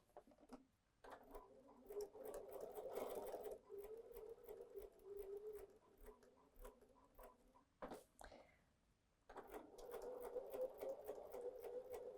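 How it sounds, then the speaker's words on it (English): Sewing machine stitching close to the edge of a small quilted table runner, a soft steady whirring in long runs broken by short pauses and light clicks, heard quietly and close. "I'm just going to sew close to the edge."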